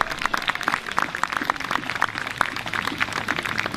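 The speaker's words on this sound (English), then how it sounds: "it's definitely a round of applause for excellent demonstration today" Audience applause rings out on a village green after a reenactment demonstration, a steady crowd of many hands clapping at moderate distance, fairly even and sustained throughout.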